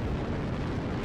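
In Mechwarrior Online, missile explosions form a dense, rumbling roar of overlapping blasts, heavy in the low end and continuous through a short moment, ending in a brighter crack.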